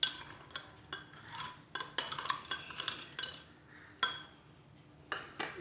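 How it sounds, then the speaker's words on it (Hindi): Metal spoon clinking against a glass while mixing milk and Rooh Afza for a gond shake, a series of sharp close taps spaced irregularly, a few quick clusters, with no talk. "अब हम इसमें दूध डालेंगे थोड़ा सा, फिर इसे चम्मच से थोड़ा मिक्स कर लेंगे"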